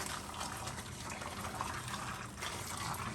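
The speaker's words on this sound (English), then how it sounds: "I'm just going to pour it over these maters in the sink" Boiling water from an electric kettle is poured over tomatoes in a sink, a close, steady splashing gush with a continuous watery rush lasting the whole stretch.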